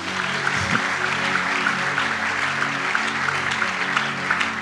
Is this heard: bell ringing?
no